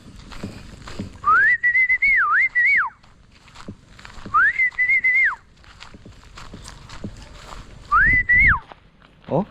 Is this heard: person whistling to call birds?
yes